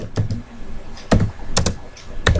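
Keystrokes clatter on a computer keyboard while C code for a basic calculator program is typed, with several sharp clicks and short bursts spread unevenly over a couple of seconds, close up and with no voices.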